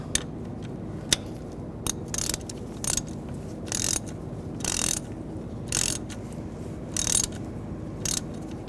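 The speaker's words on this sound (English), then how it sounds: "Now take the sensor, slide it in place, get that started, tighten that down" Ratchet tightening a coolant temperature sensor on a 2013-2016 Dodge Dart 2.4L L4, sharp metallic clicking bursts repeating about once a second, close and distinct over a quiet shop background.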